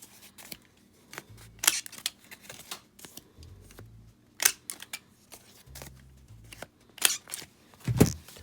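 Sharp snipping clicks of a corner chomper punch trimming the corners of paper cards, a handful of crisp separate cuts spaced through a quiet tabletop setting, with soft shuffling of card stock between them.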